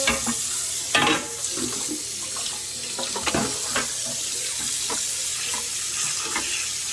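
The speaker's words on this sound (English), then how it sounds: "Rinsing the salmon off with some lemon juice." Salmon rinsed with lemon juice under a running kitchen tap, a steady close rush of water with irregular splashes as the fish is turned in the stream.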